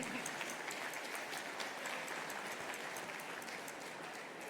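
Steady applause from an audience at a conference, an even, sustained wash of many hands clapping, heard from some distance without voices.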